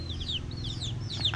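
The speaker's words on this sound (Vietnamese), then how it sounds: "Đàn gà mái đang chờ ăn." A flock of hens clucks nearby while waiting to be fed, several short rising and falling calls overlapping over a low background murmur.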